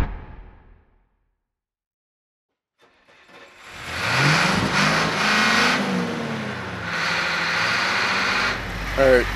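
A 1993 skoolie short bus starts moving after a quiet stretch, its engine rising and shifting through gears as it drives on the road, fairly loud and close, with wind and road noise.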